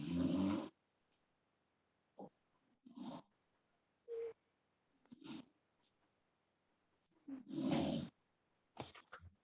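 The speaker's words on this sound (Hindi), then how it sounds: "ये कौन खर्राटे मार मार के सो रहा है भाई" Someone asleep in a math class snores in slow, irregular bursts, each a rough, breathy rumble separated by quiet gaps, faint and somewhat distant.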